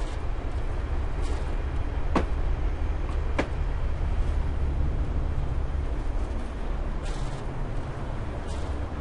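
An Isle of Wight train in the video game Train Simulator 2013 rumbles along with a steady low drone, joined by a couple of sharp brief clicks or squeals, with no talking.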